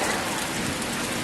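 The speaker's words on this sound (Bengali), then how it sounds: "ওই দেখেন মেঘের গর্জন" Heavy rain falls after a spell of hot weather, a steady, dense hiss of drops hitting surfaces nearby, loud and unbroken throughout.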